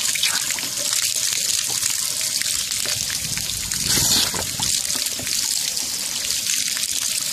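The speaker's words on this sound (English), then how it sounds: "get a good flush going here" Water flushing out through the lines of a 2017 Rockwood Mini Lite 2109S camper while de-winterizing and clearing antifreeze, a loud, steady rushing and splashing that runs without a break and with no talk.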